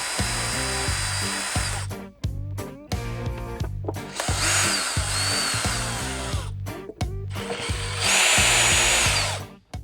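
A power tool whirs in repeated bursts while removing the latch bolts from a Harley-Davidson tour pack, loud and close, with short pauses between runs and a final longer spin.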